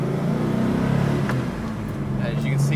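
An LS3 V8 in a 1970 Chevrolet Malibu Sport Coupe with a six-speed pulls harder, giving a close, steady engine drone that rises slightly, heard from inside the car.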